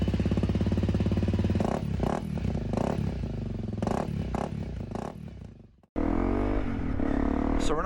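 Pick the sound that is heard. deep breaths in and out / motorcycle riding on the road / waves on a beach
motorcycle riding on the road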